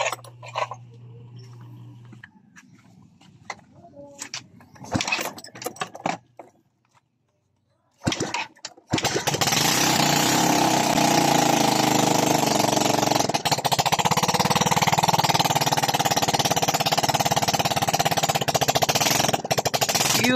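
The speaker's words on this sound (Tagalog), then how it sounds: "iuna natin ang kanyang susi at pandarin natin ang kanyang motor" A Yamaha Mio motorcycle with a freshly overhauled standard cylinder block is kickstarted: several short sputtering kicks and gaps, then the engine catches and idles loudly and steadily with a rapid, rattly, continuous beat.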